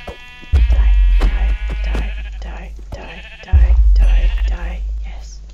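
Minecraft sheep bleat loudly and close up in wavering, nasal cries, with two bursts of several bleats separated by a short gap.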